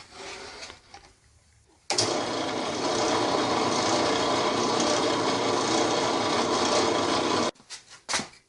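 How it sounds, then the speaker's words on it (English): A 7mm drill bit grinds steadily through the center of a wooden pen blank for several seconds, a loud, rough, continuous whir that starts abruptly and then cuts off. "take your 7mm drill bit and drill a hole right through the center"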